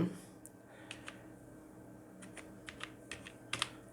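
Keys clatter on a computer keyboard as a folder name is typed on a PC, a handful of sharp, separate clicks spread unevenly over a few seconds against quiet room hiss.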